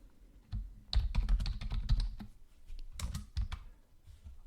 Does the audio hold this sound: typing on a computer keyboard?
yes